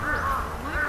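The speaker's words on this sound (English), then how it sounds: "I am filming at the park right now, so there are a lot of noises, birds, people, kids" Crows cawing in a park, a couple of loud, harsh, close calls in quick succession over faint outdoor background.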